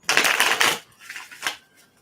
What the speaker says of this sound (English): all the shuffling for one more card